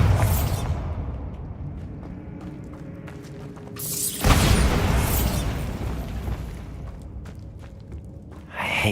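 A Bombarda spell explodes in a video game, booming loudly with a heavy rumbling blast midway and a second loud burst at the end, over continuous game ambience.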